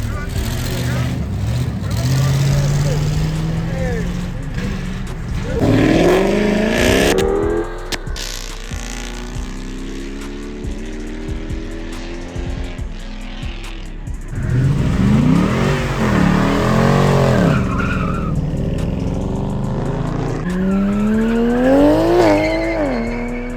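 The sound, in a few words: Hellcat and SRT muscle cars revving and doing burnouts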